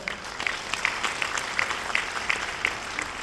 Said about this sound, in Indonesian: Silakan berdiri saudara Amniatun Indriani, kita berikan aplaus.